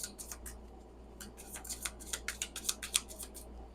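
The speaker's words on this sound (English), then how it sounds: "These cards shuffle so pretty." Tarot cards shuffled by hand during a love reading, giving a close, quiet series of crisp papery flicks and slaps that grow denser and a little louder toward the end, over a low steady hum with no talking.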